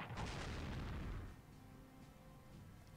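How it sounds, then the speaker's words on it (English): Artillery fire in the World War II strategy game Strategic Command, a loud rumbling boom in the North Africa theatre that fades into a low lingering tail. "Artillery."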